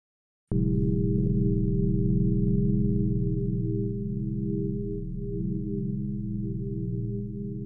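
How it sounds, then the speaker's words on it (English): Synthesized sine partials form a static, sustained drone with slow LFO wavering, suspended in reverb for ambient music; steady and alone after a sudden onset, with no talk. "Finally, we place them in a space, a reverb not to decorate but to suspend."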